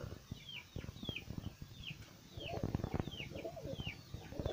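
Repeated soft cooing calls of pigeons, several overlapping in a steady rhythm, close by, with light rustling and scuffing underneath.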